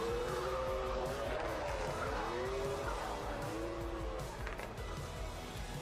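A drift car at a Latvian drift championship round slides aggressively into a corner, its engine roaring loud and continuous while the tires squeal through the transition, sustained and close for the whole stretch.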